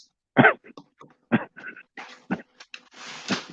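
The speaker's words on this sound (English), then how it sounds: "I hear you coughing back there." A person coughs a few times in the background, a couple of loud bursts followed by softer throat noises, with no talking over them.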